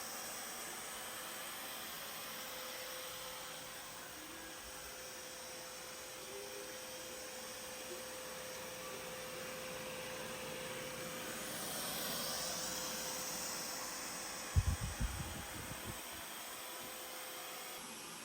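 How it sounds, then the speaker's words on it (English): A Narwal Freo robot vacuum cleaner hoovering a floor gives a steady, broad whirring hum at low level with a faint tone, followed by a few soft knocks near the end. "At this point, it's finished hoovering and you can see that it's covered the designated area inside the app"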